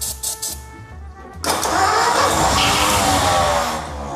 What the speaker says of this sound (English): it engages and then it releases and the starter keeps spinning. That's why it's making that noise.